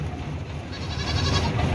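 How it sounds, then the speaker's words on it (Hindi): A goat bleats close by on a livestock delivery run in Pakistan, its cry rising over a steady, rough background din without a break for nearly two seconds. "ये दूसरा बकरा आ गया भाई।"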